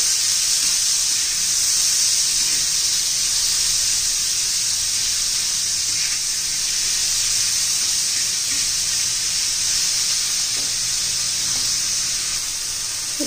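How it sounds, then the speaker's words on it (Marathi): Tomatoes fry in hot oil for an Andhra-style tomato chutney, giving a steady, loud hiss and sizzle that holds unbroken for the whole stretch with no talking over it. "आता याच्यामध्ये आपण टोमॅटो घालू त्या तेलामध्ये. चांगले मऊसूत होऊन द्यायचे."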